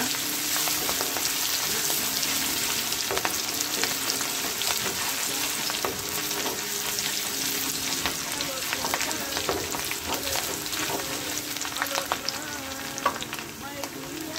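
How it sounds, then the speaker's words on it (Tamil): Sliced ginger frying in a pan for a ginger spring onion egg podimas, a loud continuous sizzle with frequent scraping stirs close by throughout. "ஏற்கனவே நல்லா ஸ்லைஸாக கட்டி வச்ச இஞ்சியை வந்து இது கூட ஆட் பண்ணிக்கிறோம் இந்த இஞ்சியை நல்லா ஃப்ரை பண்ணிக்கிங்க"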